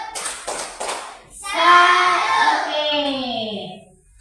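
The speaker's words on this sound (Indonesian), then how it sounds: "Oke, tepuk salut." A classroom of children claps the 'tepuk salut' clap-salute rhythm, a few sharp claps in quick succession, then the children's chanting voices ring out loudly together.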